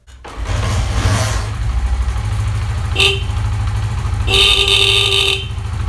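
Horn of a Honda CD 70 motorcycle, powered by a capacitor, honking over the bike's running engine: one short blast, then a longer, louder one, both close and clear above the steady idle.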